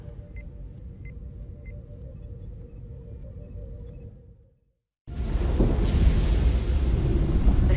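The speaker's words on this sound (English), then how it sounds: "The storm is getting worse." A deep storm rumble in the Star Trek Resurgence video game that fades to a brief silence, then returns as a loud, roaring surge of wind and rumble.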